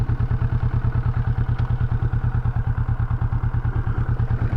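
Motorcycle engine running steadily on a night ride, a loud, close, rhythmic thumping pulse that stays even throughout with a faint clatter on top and no talking.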